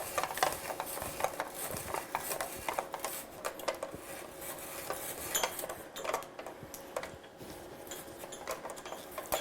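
Hand-crank spiralizer cutting a long carrot into spirals, a quiet irregular run of clicks, scrapes and crunches as the handle turns, close by with no talk.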